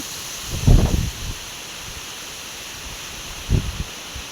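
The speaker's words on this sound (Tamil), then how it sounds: "காற்று வீசிருக்குது, காற்று சூப்பராக இருக்கு." A faint, steady outdoor hiss of mountain wind before rain, broken twice by short, muffled gusts thumping against the microphone.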